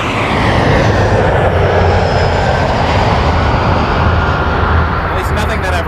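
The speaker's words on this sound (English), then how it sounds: "Now we got an Embraer 175 SkyWest 6179 air shuttle" A SkyWest Embraer 175 regional jet on arrival from Houston at Toronto Pearson gives a loud, steady broadband jet roar throughout, with a faint voice talking over it.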